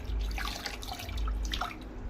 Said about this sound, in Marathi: परत आपण त्यात पाणी टाकायचं आहे